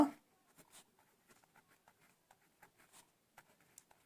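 A pen scratches out a volume formula by hand, faint short strokes and taps in an irregular rhythm against near silence, with no voices.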